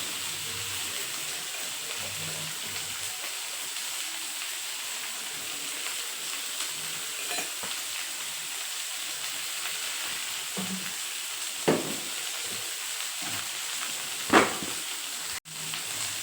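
Spiny gourd (kantola) bhaji frying in a pan, a steady soft sizzle with occasional stirring scrapes and a couple of sharper clinks toward the end, no talk.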